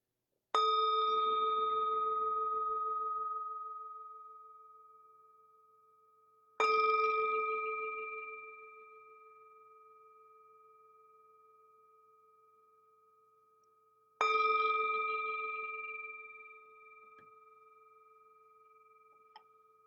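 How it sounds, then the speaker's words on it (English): Meditation bell struck three times at slow, even intervals, each clear ringing tone sustaining and fading over several seconds in an otherwise silent room. "The sound of the bell returns us to our true home."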